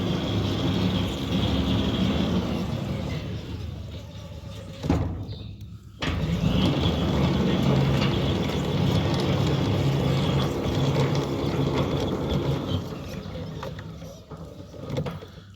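Centurion D5 Evo Smart sliding gate motor driving the gate along its track, a steady low mechanical rumble and whirr running almost continuously, broken by a brief stop partway through.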